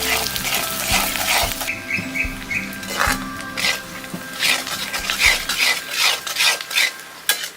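Sliced onions sizzle in hot oil in a pan while being stirred for mutton chukka varuval, a steady close frying hiss broken by rhythmic scraping strokes of a spoon against the pan.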